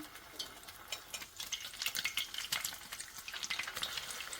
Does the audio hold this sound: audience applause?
no